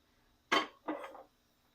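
A pan set down on a gas stove in a home kitchen, two quick metallic knocks close together, the first sharper, then silence.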